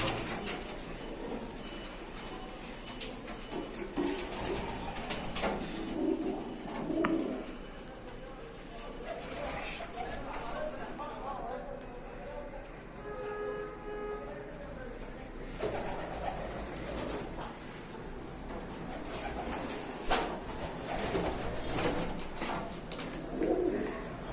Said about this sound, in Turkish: Güvercinler hepsi balkona çıkıyor.